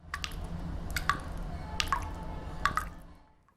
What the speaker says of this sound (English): I heard water drip,